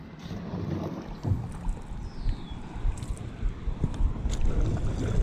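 A paddleboard pushes across a lake on a rainy day, with soft splashing and gurgling water strokes in an irregular rhythm under steady wind noise on the microphone.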